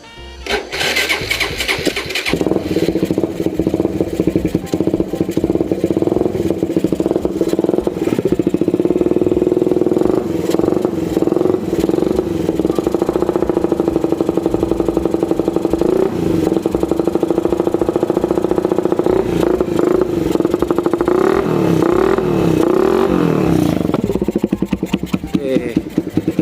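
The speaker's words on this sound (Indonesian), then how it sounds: "kita bakal cek sound ya untuk suara knalpotnya" A 2013 Suzuki Satria FU motorcycle engine roars loudly and continuously, the exhaust revving up and down for a long stretch with rattly blips, very close.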